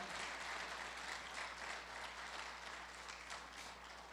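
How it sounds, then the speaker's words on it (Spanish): A church congregation at a Spanish-language morning service claps loudly and continuously, a dense, even wash of applause with a low steady hum underneath. "Dale un aplauso fuerte en esta mañana."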